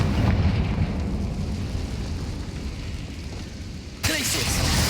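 Confringo fire spell explosion in the wizarding game Hogwarts Legacy: a broad, roaring rumble that holds steady, then a sharper fresh blast near the end.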